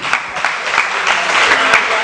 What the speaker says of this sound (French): Sous vos applaudissements, les amis.